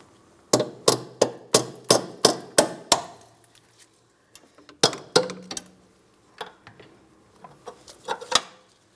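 Metal clangs as a hammer taps sharply on a stuck front left brake hose of a 2004-2008 Pontiac Grand Prix in a quick, even series of about nine strikes, then pauses before several more irregular, ringing taps.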